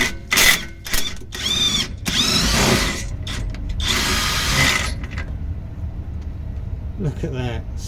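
A SeeSii WH750 impact wrench works on a car's bottom shock absorber bolt, with close, loud bursts of whirring and hammering that start and stop several times, then fade to quieter background noise.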